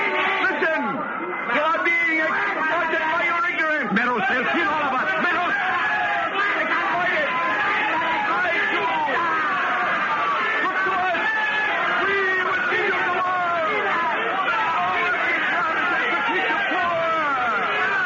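An enraged crowd murmuring in a radio drama, a dense steady babble of many overlapping voices with scattered chuckles, loud and close throughout.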